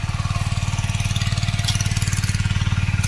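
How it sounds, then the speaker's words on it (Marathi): Out in a village farm area, a tractor engine runs with a steady, evenly pulsing low putter, like a diesel idling nearby. It is constant and unbroken, with no voices. "ट्रॅक्टरचा आवाज कदाचित जास्त"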